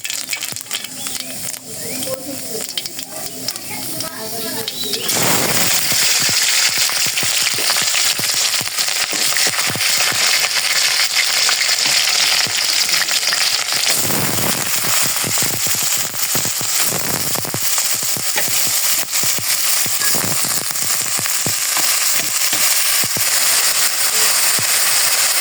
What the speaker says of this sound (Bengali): এখন এই যে এই পাশে ভাজিটা ভেজে নেব। তেল দিয়েছি, এখন যে কালো জিরা দিয়ে দিলাম।